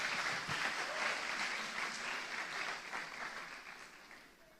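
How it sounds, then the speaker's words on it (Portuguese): During a Portuguese-language sermon, an audience applauds a chemical engineer with a steady wash of clapping that begins full and gradually thins and fades toward the end. "Uma salva de palmas para o nosso engenheiro químico aqui."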